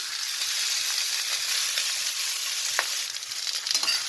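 Katla fish fries in oil with a close, continuous sizzle. Soft crackles and stirring taps sound throughout, and the sizzle grows a little busier toward the end.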